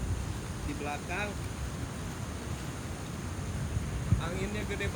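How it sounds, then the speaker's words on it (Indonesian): Strong wind at Muara Angker in Kebumen buffets the microphone with a continuous low roar throughout, while a few brief voices are heard under it. "Angin gede banget, sumpah ini anginnya."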